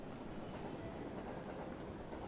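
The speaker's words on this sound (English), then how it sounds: "You are on a platform at a train station where you're waiting for your train." Train station platform ambience with a train, a steady loud rumbling roar of rolling rail cars filling the scene, continuous and close, with no voices.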